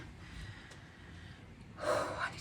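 Heavy, close breathing after a 30-minute exercise bike workout, with steady panting that ends in a louder gasping breath.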